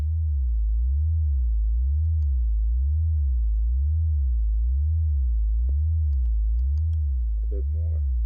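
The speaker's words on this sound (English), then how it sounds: "my bass line is modulated with pitch." Synthesized sub bass line in Ableton with pitch modulation, a deep sine-like tone pulsing in a steady repeating rhythm, loud and alone throughout, with a few faint clicks and a brief voice near the end.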